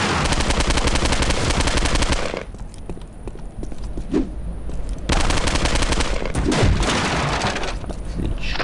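Dense rapid gunfire in Postal 2: Apocalypse Weekend fills the start and again the later part, loud and continuous, broken by a quieter stretch with a few isolated heavy blasts.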